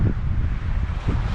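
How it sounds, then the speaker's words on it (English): Strong wind gusting on an Eastbourne beach during early spring sea fishing, a continuous loud roar buffeting the microphone with rumbling low-end surges and no talk. "the wind's really in our face. It's probably 25-mile-an-hour gusts at times"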